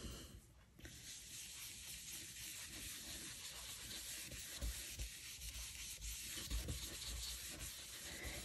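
An ink blending brush sweeps over card paper in soft, close, continuous rubbing strokes, faint and breathy, with a few slightly louder passes near the end.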